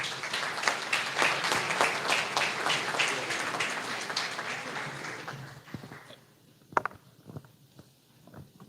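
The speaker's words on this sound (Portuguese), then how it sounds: "Quantos podem aplaudir a Jesus?" A church congregation applauds together, a broad, steady patter of many hands that fades after about five seconds into scattered final claps and room noise.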